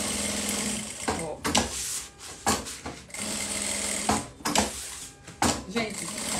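A sewing machine topstitches a fabric pouch with plastic, running in loud, close bursts of rapid stitching separated by brief stops.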